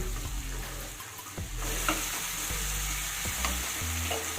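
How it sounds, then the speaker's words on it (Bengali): Spice paste fries in a pan for a vegetarian curd and pointed gourd curry, with a loud, steady sizzle that swells partway through and occasional knocks and scrapes of stirring, and no voices. "এবার আমি মশলাটাকে ভালো করে মিশিয়ে এক মিনিট মতো কষিয়ে নেব"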